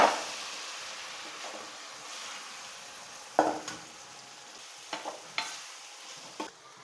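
Indian gooseberries (amla) fry in hot oil with chili powder while being stirred for a pickle, giving a steady soft sizzle with several sharp scraping clacks of a spoon against the pan, close and without talk.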